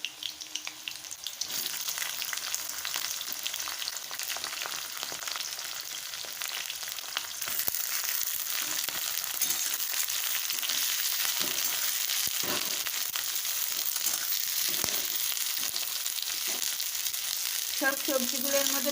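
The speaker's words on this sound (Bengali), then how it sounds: "একে একে সব সবজিগুলো দিয়ে দিচ্ছি।" Vegetables with onion and garlic frying in a pan, a faint steady sizzle that grows louder partway through, with occasional scrapes and clinks of stirring.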